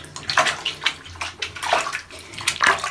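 Water splashes and pours in close, uneven bursts as a Pixie-bob kitten is rinsed in a basin, with sloshing between pours.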